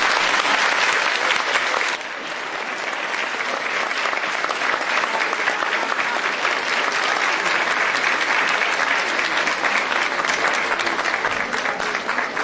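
Loud, sustained audience applause fills a hall at a Slovak community celebration for senior citizens, steady dense clapping throughout with a brief dip near the start and no speech.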